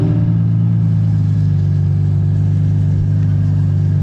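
A Novitec-tuned Ferrari F12 running through its Novitec exhaust gives a loud, close, steady engine drone, a deep rumble held at a constant pitch with no clear rise or fall in revs.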